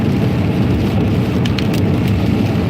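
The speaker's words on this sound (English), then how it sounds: "It's been raining here like crazy." Steady, dense rain falls without pause, a loud, even hiss that fills the whole stretch with no voices.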